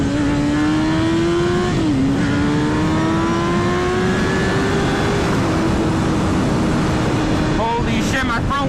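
A motorcycle accelerates hard on traction control, its engine revving loud and close and climbing through gear changes as the front wheel lifts into a wheelie.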